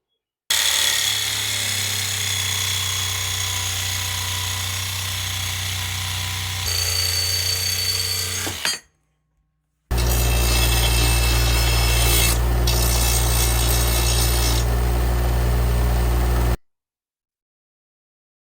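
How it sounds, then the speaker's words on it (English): Power drill boring a hole in metal hardware on a Club Car Precedent golf cart, a loud close grinding whine in two long runs separated by a brief silence. "I've got the hole drilled here"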